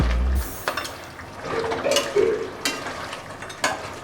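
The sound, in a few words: goat head curry sizzling on high flame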